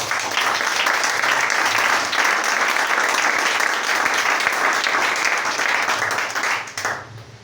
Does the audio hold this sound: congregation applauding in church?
yes